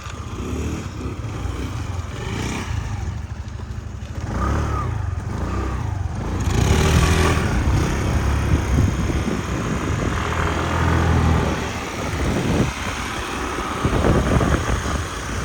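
Small Honda Dio 110cc fuel-injected scooter engine running with a soft, steady drone that swells and eases during a test ride, with wind and road noise around it.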